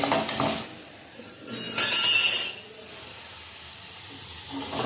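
Tomato fries in hot oil with turmeric and salt in a home kitchen, a soft hiss that swells into a louder sizzling burst before settling back to a quiet steady crackle.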